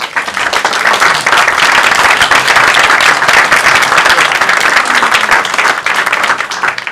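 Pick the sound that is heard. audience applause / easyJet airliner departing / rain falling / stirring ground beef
audience applause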